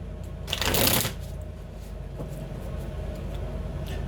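A quick riffle of shuffling cards, a brief crisp flutter lasting about half a second, close up against a low steady background hum.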